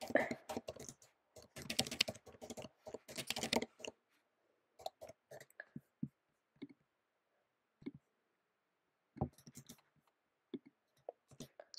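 Computer keyboard typing while code is written, dense bursts of rapid clicking keystrokes at first, then sparser scattered taps and short pauses, close and fairly quiet, with no talking.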